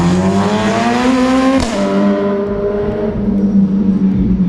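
A Honda Rune motorcycle engine revs loud and close, its pitch climbing steadily, dropping sharply at a gear change and then holding a lower steady drone.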